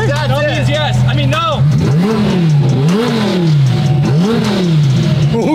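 Twin-turbo Lamborghini Huracán STO making about 1650 wheel horsepower, revving hard up close: a steady loud idle snaps into repeated rising and falling revs, each swelling then dropping, with voices talking over the engine.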